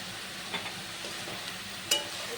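Palm and coconut filling, seasoned with salt and chopped cardamom, stirred in a wok for a Janmashtami palm patishapta pitha: faint scraping strokes under a soft hiss, with a sharper scrape near the end and no voices.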